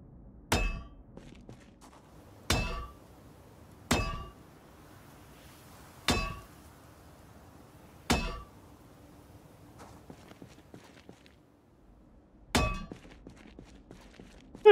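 Objects being smashed in the game Project Zomboid: six or seven sharp, loud metallic clanging blows at a steady interval of about two seconds, each ringing briefly before fading into a quiet background.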